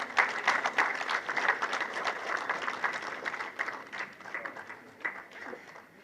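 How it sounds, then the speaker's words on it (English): A round of applause for certificate presenters at a national security policy launch ceremony in The Gambia, many hands clapping at a moderate distance, steady then gradually thinning. "Please, round of applause for them."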